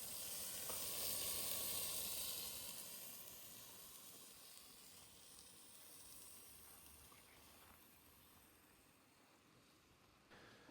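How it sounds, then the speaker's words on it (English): Burgers sizzle on a portable gas grill while camping in Telemark, Norway: a continuous bright hiss and crackle, loudest at first then settling to a steady softer fry, with no voices. "to grill some burgers on our portable gas grill"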